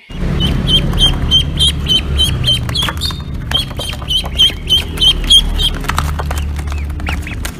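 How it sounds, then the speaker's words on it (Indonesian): A duck quacks over and over in quick, loud, nasal bursts, close by and fairly rhythmic, with a low rumbling background underneath. "Wah, ini si bebek teman-teman."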